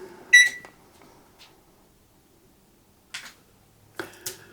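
An oven timer being set to 24 minutes gives a few short electronic beeps and button presses, spaced apart in a quiet kitchen with near silence between them.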